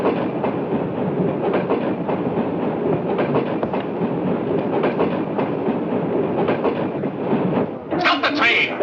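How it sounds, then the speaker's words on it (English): A train runs steadily on its rails with a dense low rumble and a faint clickety-clack rhythm, loud and continuous. Muffled voices seem to murmur underneath, and a brief higher burst comes near the end. "Stop the train!"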